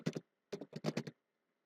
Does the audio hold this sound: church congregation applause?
no